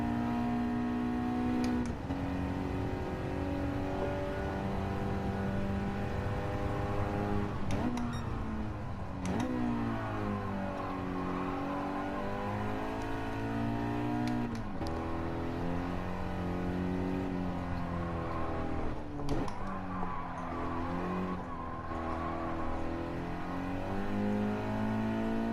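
A race car engine revs and accelerates around the Streets of Willow track, loud and continuous, its pitch climbing and dropping repeatedly with gear shifts and corners, held in second gear.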